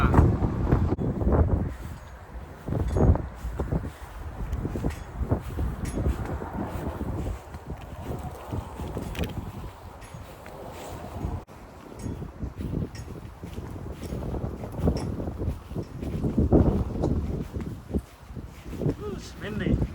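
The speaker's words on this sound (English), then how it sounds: "It's windy." Gusty outdoor wind buffeting the microphone with rumbling low bursts that rise and fall throughout, under occasional talking.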